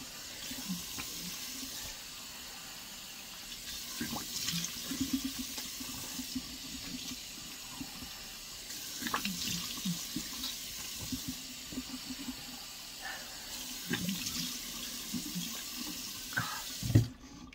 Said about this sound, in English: I have to wash my face.